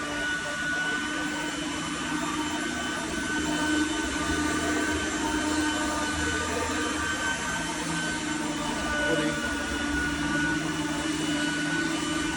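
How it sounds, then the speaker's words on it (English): A 1986 Oreck XL 100C upright vacuum cleaner motor runs steadily and fairly quietly, a smooth continuous whir with a faint high whine, holding even throughout with no talking. "Probably the quietest vacuum in my collection."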